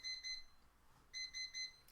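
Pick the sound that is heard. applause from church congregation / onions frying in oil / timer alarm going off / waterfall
timer alarm going off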